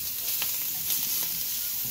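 Crumbled sausage for pizza browning in a pan gives a close, steady sizzle with small crackling pops, alone and fairly loud.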